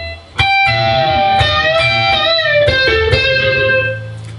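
An electric guitar lick imitating a pedal steel, with pre-bent notes on the second string high up the neck sliding against first-string notes, heard as a few sustained, loud, bending tones with no talking.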